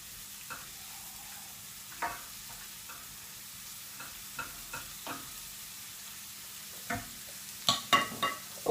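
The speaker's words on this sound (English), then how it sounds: "we're going to get our leeks straight into that butter and oil. Get them frying off" Quiet sizzling of leeks frying in butter and oil in a pan, with occasional clicks and scrapes of stirring that grow a little louder toward the end.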